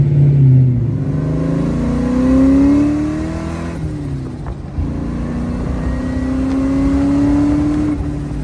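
A Shelby Cobra's engine revs hard through a loud, raspy exhaust, its pitch climbing and falling across several sustained pulls with a brief dip between them.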